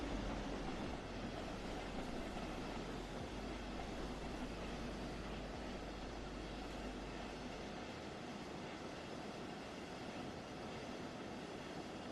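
A video game train rumbles steadily along the rails with a low, continuous rolling drone and faint rhythmic clatter, fairly quiet throughout.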